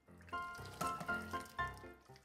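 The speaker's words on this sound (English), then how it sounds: "Pour some hot water in a glass jar to disinfect it." Hot water pours into a glass jar, a soft close trickle with a few louder splashing bursts in a short quiet stretch, no voices.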